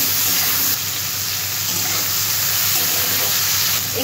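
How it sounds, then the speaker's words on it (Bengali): Chopped onions frying in oil in a pan, a steady loud sizzle with a watery hiss that runs continuously throughout. "পেঁয়াজটা আমি একটু ভাজা ভাজা করে নেব।"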